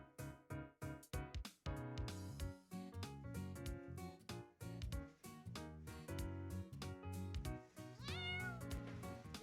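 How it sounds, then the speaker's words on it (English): A cat meows, its call picked out among dense, rhythmic background music with strong percussive beats, fairly loud throughout. "Rhino's usually the one meowing"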